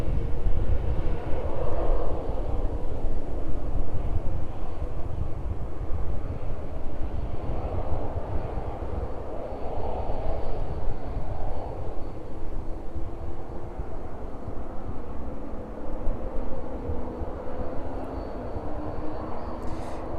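A Ryanair passenger aircraft taxiing at East Midlands Airport, heard from a distance as a steady low jet-engine rumble and whine, with wind buffeting the microphone, unbroken across the whole stretch.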